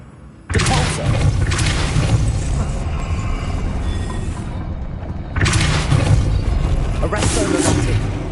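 The Depulso spell cast in Hogwarts Legacy, two loud bursts of a forceful blast with shattering crash and rumbling debris, each starting abruptly and lingering for several seconds, with speech present.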